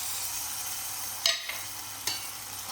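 A spoon stirs ginger garlic paste into fried onions for a mutton curry, giving a soft steady sizzle broken by two quick scraping strokes against the pan.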